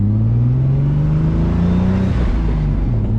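A turbocharged BMW M52 inline-six in an E30, rated at 515 wheel horsepower, revs loudly and close by as one sustained, deep engine drone whose pitch rises and then falls slightly.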